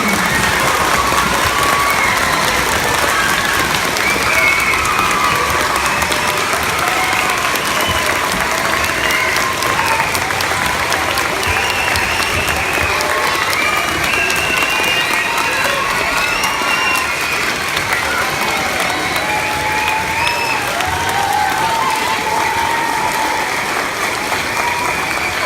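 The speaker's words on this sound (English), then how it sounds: "give the most thunderous applause we have ever heard in this gym for our veterans" Thunderous applause fills a school gym during a Veterans Day program, a large crowd of students and guests clapping loudly and continuously for about twenty-five seconds with some cheering mixed in.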